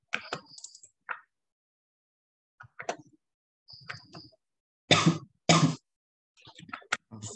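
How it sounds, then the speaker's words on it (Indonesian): A person gives two short, forceful coughs close to the microphone, one right after the other. Light keyboard typing and clicking come before and after them in an otherwise quiet room. "Agak sedikit batuk."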